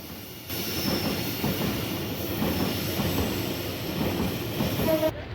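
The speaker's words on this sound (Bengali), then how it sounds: "ঢাকামুখী একটি কন্টেনার মালবাহী ট্রেন এগিয়ে যাচ্ছে ঢাকার দিকে" A container freight train rolls through a station near Dhaka, a steady loud rumble of wagons and wheel clatter continuing throughout, with a faint squeal near the end.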